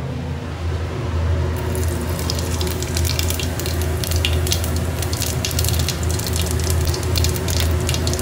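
Whole cumin seeds hit hot oil for a spicy brinjal masala, setting off a steady, close crackling sizzle that begins after a quiet first second and holds evenly throughout.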